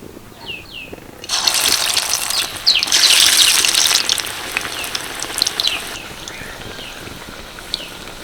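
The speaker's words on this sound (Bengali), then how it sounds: "এবার এক এক করে আমি এই রোলগুলো ছেড়ে দেব" Onion-coated snack rolls are dropped one by one into hot white oil in a wok, setting off a loud, bubbling hiss that swells sharply and then settles into a steadier crackling fry.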